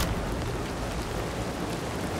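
Rain in the video game Spider-Man 2: a steady, dense hiss of downpour, constant and fairly loud throughout with no voices.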